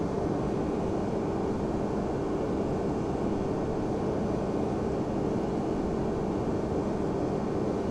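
A Boeing 767-300 airliner descends in the FSX flight simulator with a steady, unbroken roar of engine and wind noise. The drone stays constant and fairly loud throughout, with no voices.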